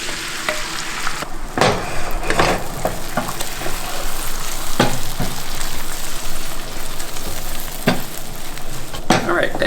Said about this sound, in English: hot pan, butter, and let's scramble some eggs